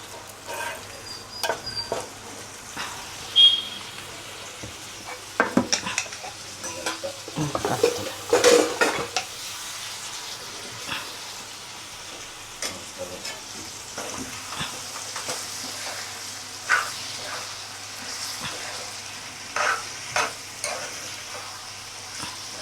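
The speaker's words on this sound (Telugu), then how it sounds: "ఉల్లిగడ్డ మగ్గింది, టమాటా వేసేస్తాను" Onion and tomato fry in a pan with a soft, continuous sizzle, while a spoon scrapes and clatters against the metal in irregular bursts of stirring.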